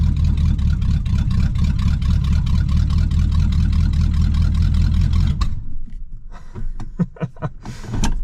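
A 1969 Pontiac Bonneville station wagon's 428 engine runs loud and steady while driving for about five seconds, then cuts to quieter, uneven bursts and knocks.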